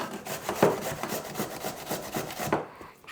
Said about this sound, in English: The first thing I'm going to do is grate some potato.